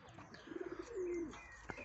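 A pigeon in a loft gives a soft, throaty coo, a short burst of low rolling notes, quiet and close by.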